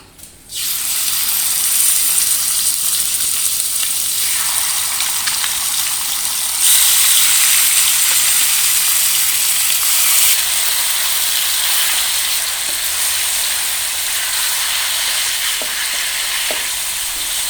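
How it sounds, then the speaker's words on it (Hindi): Chicken pieces sizzle loudly in hot ghee in a kadai for butter chicken, a steady bright frying hiss that swells partway through and continues alone with faint stirring clicks. "अब हम चिकन को कढ़ाई में डालेंगे।"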